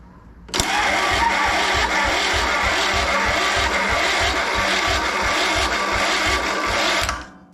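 Starter cranking the engine of a Simplicity Regent garden tractor, a loud rhythmic chugging churn for about six and a half seconds without catching, then cutting off.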